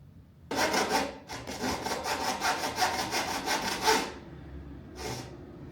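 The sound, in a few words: small hand saw cutting wood for a window cornice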